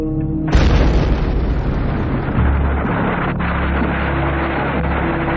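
Bomb explosion at the Aung San mausoleum in Myanmar, a sudden loud blast followed by a long, dense roaring rumble that slowly fades.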